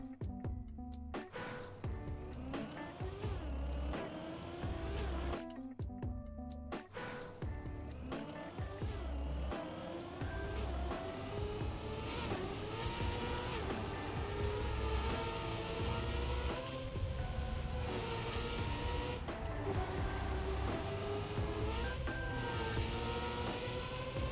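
A racing car engine in Trackmania drones and shifts pitch continuously through a long run, with brief breaks, tyre and braking noise, and no talking.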